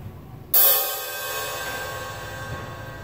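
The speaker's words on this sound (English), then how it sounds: "What do you hear when I strike this cymbal" Cymbal struck once with a dowel rod, a sudden bright crash that rings on, shimmering and slowly fading over a couple of seconds in a quiet room.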